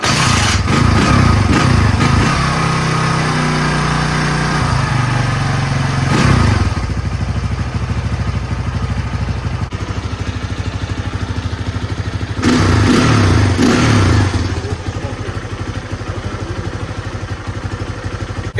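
A Honda 200X three-wheeler's small single-cylinder engine idles and runs steadily throughout, close and loud, with a few rev changes and mechanical clatter.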